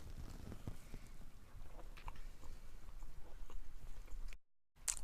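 Close, quiet chewing of crunchy paleo brownies with irregular soft crunches and mouth sounds, ending in a brief silence and a small final bite.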